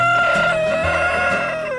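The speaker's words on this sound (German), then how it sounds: "Seltene Hühnerrassen." Rare-breed chickens on a poultry farm that also raises small ostrich relatives, heard close and loud with a rooster's drawn-out crow over clucking, no voices present.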